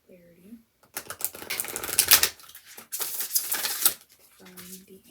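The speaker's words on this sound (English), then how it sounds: "shuffle our cards again" Oracle cards being shuffled by hand, two bursts of crisp riffling and flapping a few seconds apart, close and fairly loud, with a voice briefly heard before and after.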